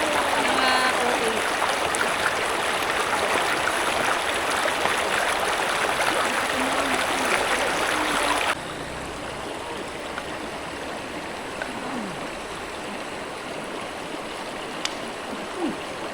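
A rocky provincial river rushes steadily over stones during light rain, a loud continuous wash of water close by that drops somewhat in level partway through, with no voices.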